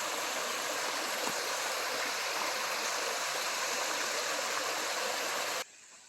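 A mountain creek rushes near a waterfall along a trail toward Clara Lake, a steady, dense wash of flowing water that cuts off abruptly near the end, leaving quieter background.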